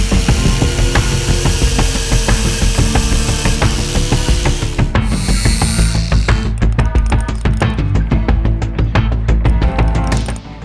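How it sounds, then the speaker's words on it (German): Stainless steel tube for a home-built power rack being cut and then deburred: a loud, sustained, grinding power-tool whine gives way to a series of rapid, sharp scraping strokes, close up with no talking. "Im letzten Schritt vor der Montage schneiden wir das Edelstahlrohr für die verschiedenen Ablagen zu und entgraten diese"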